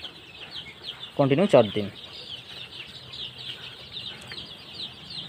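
Young chicks on a poultry farm cheeping and clucking softly in the background, with a brief burst of speech near the start over a constant high chirping chorus.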